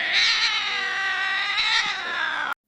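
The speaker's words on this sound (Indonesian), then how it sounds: "ada seekor kucing yang meraung dan meloncat dari atas jendela" A cat lets out a loud, drawn-out yowl close by, one sustained wailing caterwaul that ends abruptly, with no voices.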